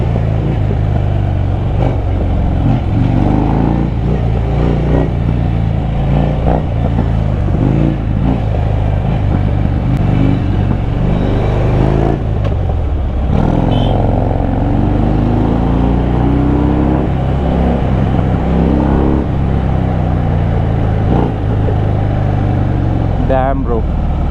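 A Harley-Davidson Fat Bob V-twin motorcycle rumbles loud and near while riding in traffic, its engine throbbing steadily throughout with rises in revs, as someone talks over it.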